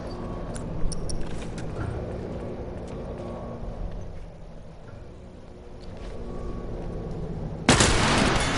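Gunfire in The Last of Us Remastered, a few sharp shots over a low rumbling game backdrop, then a loud burst of noise near the end.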